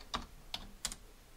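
Three separate keystrokes tap on a keyboard while entering Netflix into a search on an Android 11 Raspberry Pi 4 setup, quiet, close and evenly spaced with no voice.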